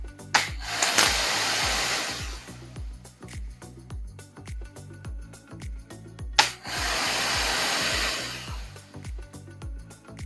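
A Kranzle or Active 2.0 pressure washer motor runs steadily at a distance with a rhythmic pulsing beat, with two louder bursts of hissing spray, one early and one later.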